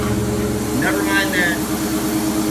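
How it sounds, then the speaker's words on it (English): Dodge Charger engine idling with a bad alternator bearing makes a steady, droning clunky whir from under the hood, with a person's voice briefly over it. "that clunky noise coming from under the hood. I have a bad bearing in my alternator."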